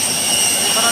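An IndiGo jet airliner's engine roaring on the apron at Delhi airport during refuelling, a loud, steady, broadband whine and rush that holds unbroken for about a second.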